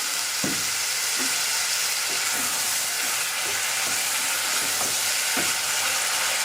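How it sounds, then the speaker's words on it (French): Soy sauce sizzles and hisses steadily in a hot pan over grilled food, a loud continuous fry with occasional soft clicks and pops of stirring throughout. "dès qu'il sera bien grillé, j'ajouterai de la sauce soja pour le déglacer"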